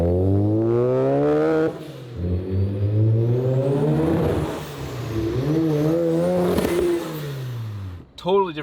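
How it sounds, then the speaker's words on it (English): Restored Mazda RX-7 FC street car with a turbocharged rotary engine on a boost pull, revving up through rising gears with buzzy, climbing pitch, a brief lift between shifts, then a sharp cut near the end. "I'm going to go ahead and diagnose that right now and finally do a damn boost pull"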